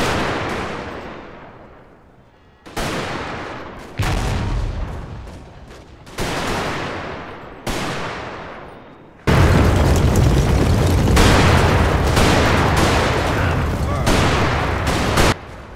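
Rifle volleys, Gatling gun fire and artillery in a Total War battle between Zulu and British forces at Ulundi roll out as loud booming blasts. Each blast decays, and after about nine seconds the firing turns into a sustained, dense fusillade.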